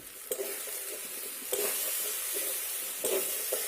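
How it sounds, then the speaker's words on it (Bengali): Shrimp filling seasoned with turmeric and salt is stirred dry in a pan, giving a steady soft sizzle with scraping stirs recurring roughly every second and a half, close and continuous, with no talking. "তো এবার এটাকে আমি নেড়ে নেড়ে একেবারে শুকিয়ে নেব।"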